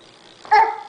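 A voice imitating a dog's woof, one short bark-like sound that starts suddenly and fades over about half a second.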